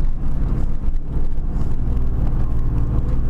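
Car driving along a road toward the Victorian High Country, a steady loud engine and road rumble with a continuous low drone and no voices.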